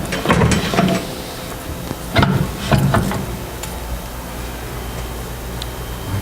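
A batch freezer machine being closed up, a few close metallic clicks and clunks early on over a steady low mechanical hum.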